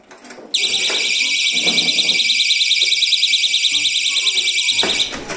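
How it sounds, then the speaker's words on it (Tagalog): A door entry alarm blares a loud, steady electronic tone continuously after a brief clatter as the door opens, with faint thumps and movement underneath before it cuts off. "So, mag-a-alarm siya once na i-open mo yung pintuan."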